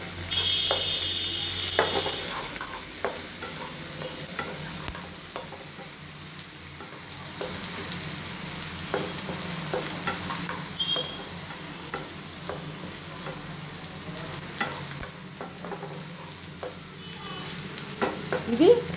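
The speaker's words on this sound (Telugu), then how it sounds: "కరివేపాకు వేసేసినాం కదా, ఇవి వేయించుకుంటూ ఉండాలి ఇలా." Green chilies and curry leaves fry in hot oil with a steady close sizzle, broken by the scrape and clack of a stirring spoon through the whole stretch, for an eggplant fry and chutney.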